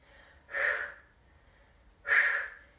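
Two forceful, breathy exhales during a core-strengthening lift, each a short, sharp rush of air about a second and a half apart, close and clear against near silence.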